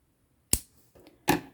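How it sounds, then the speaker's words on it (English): Scissors snip the yarn end off a crocheted sunflower granny square: two sharp, close cuts about three quarters of a second apart, with a faint rustle between them and no voices. "We have done the petals all the way around, so we need to cut off the end."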